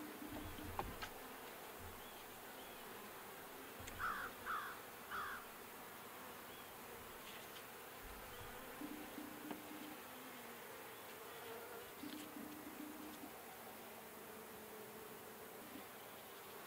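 Honey bees buzz faintly around a weak, struggling hive, a quiet continuous drone with a few brief nearer passes and soft background noise.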